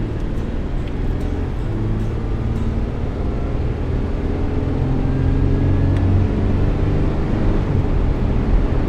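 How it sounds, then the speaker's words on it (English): A Toyota 4Runner with new front brakes slows hard from 55 to 5 mph: steady, fairly loud road and engine rumble from inside the moving vehicle, with no clear brake squeal standing out. "apply strong braking pressure to get down to 5"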